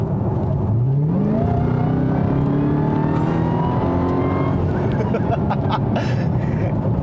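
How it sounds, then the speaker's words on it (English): A 2021 Dodge Charger Hellcat Redeye runs with a steady engine drone and a rising, whirring supercharger whine layered above it, loud and close throughout. "you get that lovely supercharger whine, which you hear all the time."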